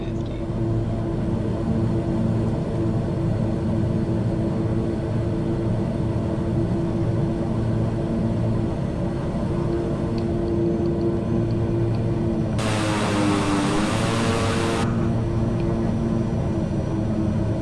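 A steady droning propeller airplane engine in Microsoft Flight Simulator 2020 hums continuously at an even pitch, with a brief higher whooshing rise near the end.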